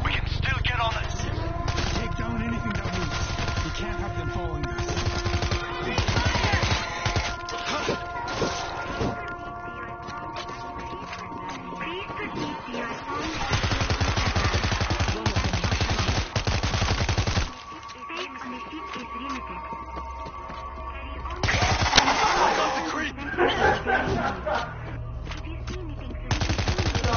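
Auto turrets in the video game World War Z fire sustained automatic bursts, loud and continuous with brief breaks, mixed with game noise and voices talking over the shooting.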